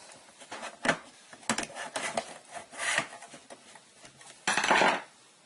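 A metal hose clamp is tightened onto tubing at the pump of a Kangen water machine, producing close, irregular metallic clinks, taps and scraping rubs, with a longer grinding scrape near the end.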